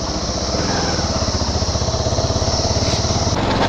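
A motorbike engine labouring uphill on the road to Dhampus, a close, steady, throbbing drone that rises slightly in pitch and holds loud throughout.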